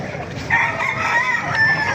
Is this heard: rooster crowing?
yes